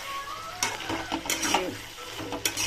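Spice paste with cumin and coriander powder frying in a pan, with bursts of stirring and scraping against the metal over a low, faint sizzle, heard up close and without talk.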